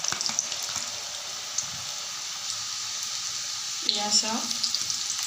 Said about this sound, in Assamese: তেলখিনি গৰম হৈ গৈছে, এতিয়া তেলত মই নিমকিখিনি বহুৱাই দিম।